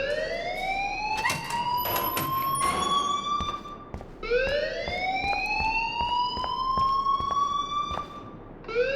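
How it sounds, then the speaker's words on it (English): Rising, wailing siren-like alarm from the PS4 video game Life Is Strange, sweeping upward in repeated cycles, loud and continuous, with sharp clicking noises over it. "please turn off that alarm since that's your job"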